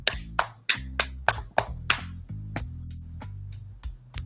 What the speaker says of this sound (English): Give it applause. Applause.